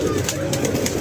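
Pigeons coo in soft, repeated throaty pulses close by against a steady background hum, with no voices.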